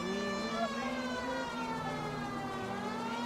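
A police car siren wails continuously in L.A. Noire, a steady rising-and-falling tone heard up close over engine noise, with no talk during it.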